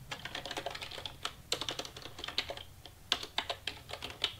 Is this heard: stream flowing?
no